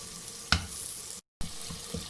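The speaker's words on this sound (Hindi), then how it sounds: "थोड़ी देर हम इसे भूनेंगे 2 से 3 मिनट" Masala for malai handi fries in a hot clay pot over medium heat, with a faint, steady sizzling hiss, one brief clink and a short dropout.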